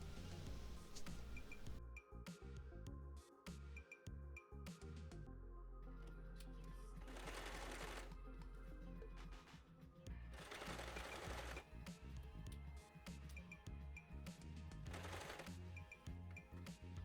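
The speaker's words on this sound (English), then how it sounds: "fold the pleat section right sides together and sew from the top edge down to the new opening marking" Sewing machine stitching a pleat seam on fabric wrap pants, a steady rapid mechanical chatter running in several bursts with brief pauses between runs, close and fairly loud with no talking.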